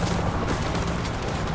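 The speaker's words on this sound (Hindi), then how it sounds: "अब हम ये अलग ही गोली भी चलाएंगे।" Dense, continuous gunfire from the zombie shooter World War Z, a loud, steady barrage of overlapping shots filling the whole moment with no voices.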